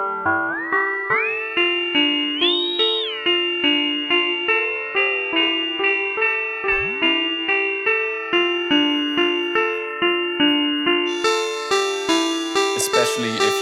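Teenage Engineering OP-1 Field synth run through the CWO effect, giving a bit-crushed, ring-modulated tone over a steady repeating note pattern with pitch sweeps and a harsh, buzzy top added near the end.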